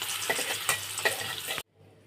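Onion fries in hot oil in a kadai in a village kitchen in Odisha, a close crackling sizzle with stirring scrapes that cuts off abruptly to near silence.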